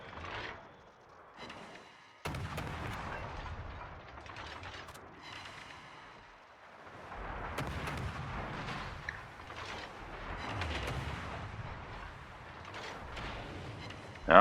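Naval gunfire striking a warship in a warship battle video game, heard as a continuous rumble of booming impacts and explosions, with irregular heavier hits and a sharp loud blast at the very end.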